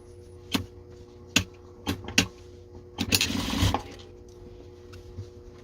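A sewing machine topstitches along the edge of a lined patchwork pouch, running a short burst of rapid stitching amid separate knocks and clicks over a faint motor hum, with no talk.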